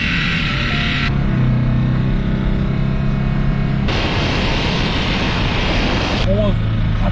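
A Chevrolet Cobalt or Gentra engine hums loudly with a low droning rattle that shifts in pitch and intensity over several seconds, close and continuous, while a person speaks over it.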